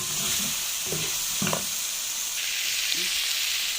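Potatoes frying in tomato sauce in a pan give a steady, close sizzle that runs for the whole stretch, with a few soft knocks and scrapes from a spoon and no talking.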